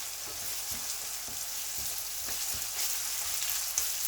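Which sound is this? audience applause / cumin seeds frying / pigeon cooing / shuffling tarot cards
cumin seeds frying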